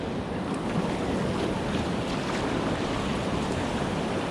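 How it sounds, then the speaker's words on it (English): A canoe rides beginner's whitewater rapids on a wilderness lake-and-river trip, with loud, steady rushing water and wind buffeting the microphone throughout. "beginner's whitewater."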